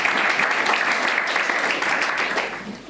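A church congregation claps and cheers for its technician, steady dense applause that fills the room and holds at full strength before easing slightly toward the end, with no speech over it.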